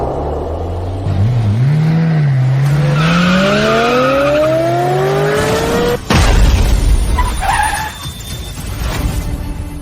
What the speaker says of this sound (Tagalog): Mukhang aksidente sa sasakyan.